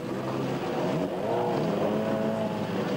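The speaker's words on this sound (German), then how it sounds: "Ole Arnesen aus Schweden mit seinem Audi Quattro." An Audi Quattro rallycross car racing in the 1987 European Championship at Buxtehude, its engine a steady loud roar with shifting pitch as it passes, heard from trackside with no speech.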